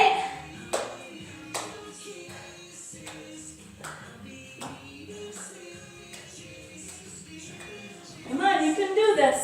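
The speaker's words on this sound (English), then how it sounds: "Scissor claps." Hands clap in a steady rhythm during a scissor-clap ab exercise, about ten sharp claps spaced under a second apart, close by over faint background music.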